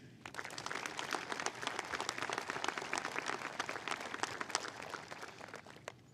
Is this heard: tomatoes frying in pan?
no